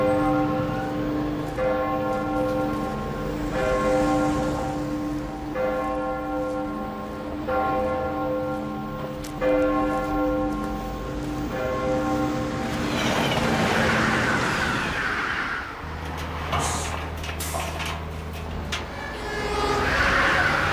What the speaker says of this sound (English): Let's hear what the city sounds like.